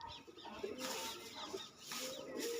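Pigeons coo softly in a loft, a few low rolling calls over a murky background of rustling and faint distant noise.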